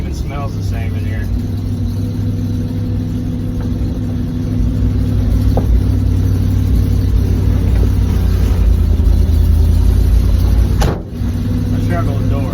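A 1983 Chevy truck's engine drones loud and close from inside the cab while driving, swelling as it revs, with a brief clunk near the end.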